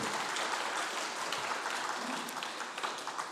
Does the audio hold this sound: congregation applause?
yes